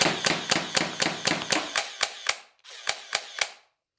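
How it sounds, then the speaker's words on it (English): An SKD Glock 18 gel blaster firing on full auto, a rapid rhythmic string of sharp snapping shots close by, briefly stopping before a shorter burst follows, then silence. "Hold that button down for mag prime. And then press it again and you get full auto."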